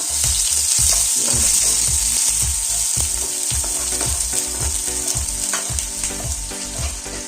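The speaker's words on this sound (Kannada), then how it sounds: "ಎಣ್ಣೆ ಕಾದ ನಂತರ ಅದಕ್ಕೆ ಹೆಚ್ಚಿಟ್ಕೊಂಡಿರ್ತಕ್ಕಂಥ ಈರುಳ್ಳಿಯನ್ನು ಹಾಕಿ," Chopped onions fry in hot oil in a kadai, a loud continuous sizzle punctuated by regular rhythmic scraping strokes of a spatula stirring the pan, heard up close with no talk.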